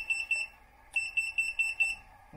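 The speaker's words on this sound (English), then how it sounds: "And then the buzzer." A Nirvana RC transmitter's buzzer gives a run of thin, high electronic beeps, two short bursts of rapid pulsing beeps separated by a brief pause, fairly close and alone.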